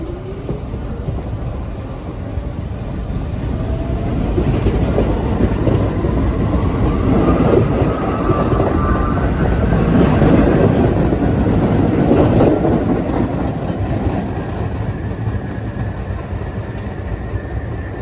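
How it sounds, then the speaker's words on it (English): A commuter train departs Pleasant Plains station, rumbling steadily past at moderate distance, its low roar swelling and fading over several seconds with faint rail noise, no voices. "We see our train depart St."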